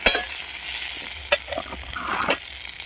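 Ginger and spices being stir-fried in a pan for a banana flower and masur dal curry: a steady close sizzle broken by a few sharp scrapes and clinks of the spoon stirring.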